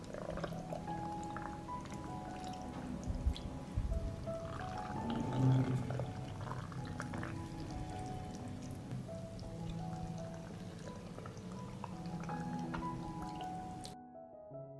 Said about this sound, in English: I pour water into the jars.